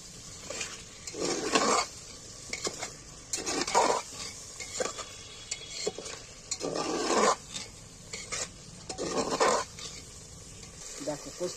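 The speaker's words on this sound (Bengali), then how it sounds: "এইবার মাংসটা কষতে থাকবো।" Mutton cooks down with onion and tomato in a pot, a low sizzle under repeated scraping strokes of a spoon against the metal, coming in uneven bursts about every couple of seconds.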